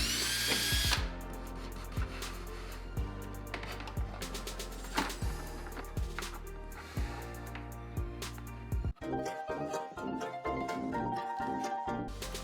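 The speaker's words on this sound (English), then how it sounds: "I drilled holes on the front edge of the cabinet and ran the wire up behind the front lip." A power drill bores holes into the front edge of a wooden cabinet, its motor whirring steadily in long runs with brief stops and clicks between holes.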